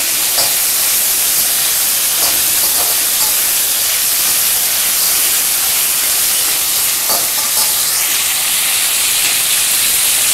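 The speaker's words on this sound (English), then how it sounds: "Let's fry it till golden brown." Misal ingredients including tomato fry in hot oil, a loud and steady close sizzling hiss that runs the whole time with faint scraping now and then.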